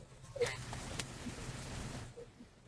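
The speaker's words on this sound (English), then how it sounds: "can hear all sorts of chatter there in the background" Unmuted webinar participants produce a faint, muffled background murmur of overlapping voices and small room noises, all distant and indistinct.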